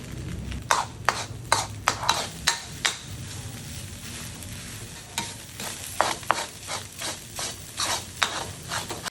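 Rice stir-fried with butter and nori in a pan, a spatula scraping and tapping in repeated sharp strokes over a steady low sizzle, with a pause midway before the rhythmic stirring resumes.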